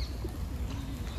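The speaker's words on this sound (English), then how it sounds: "the pigeons here are having a bath" Pigeons bathing in Seville's Maria Luisa Park, with soft cooing and low murmurs over steady outdoor park ambience across a short stretch.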